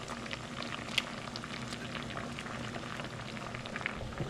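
Homemade pasta ravioli cooking in a pot of boiling water, a soft continuous bubbling and gentle popping at low volume, steady throughout with no talk.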